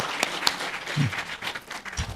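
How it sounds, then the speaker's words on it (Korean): A church congregation gives a brief round of applause, a soft and fairly distant patter of clapping with a few sharper claps standing out and little talk over it. "박수 한번 쳐드릴까요?"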